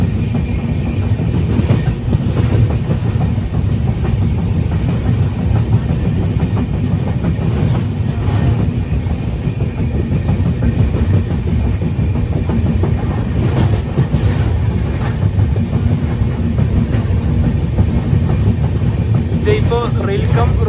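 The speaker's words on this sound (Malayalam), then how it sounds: "ഇതിപ്പോ റെയിൽ കം റോഡ് ബ്രിഡ്ജിലൂടെ താഴിലൂടെ ഒരു ട്രെയിൻ കൂടെ കടന്നു പോകുന്നുണ്ട്." From aboard the Gurudev Express in a 3AC coach, another train is heard crossing a rail-cum-road bridge over a river. A loud, continuous rumble of wheels runs under rhythmic clatter, with wind buffeting the microphone throughout.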